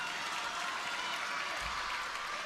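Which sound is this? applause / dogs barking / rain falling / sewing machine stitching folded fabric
applause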